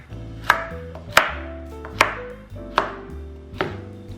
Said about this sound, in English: And for your carrots, again, we're gonna do a rough chop of these